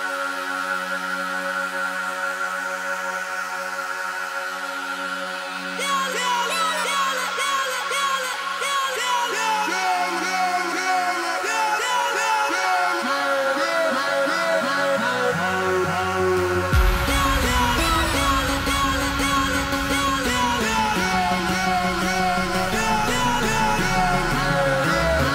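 German bass track with a playable vocal sample instrument layered in, opening sparse and tonal, then filling out around five seconds and hitting hard with heavy low bass from about seventeen seconds onward, steady and loud.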